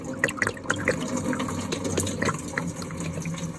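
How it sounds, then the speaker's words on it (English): Coolant pouring out of an engine after the water pump is removed during a timing belt job on a 1.6 HDi, a continuous close gushing trickle with splashy spatters into a tub beneath. "Make sure you've got a tub underneath because you will get a fair bit of coolant."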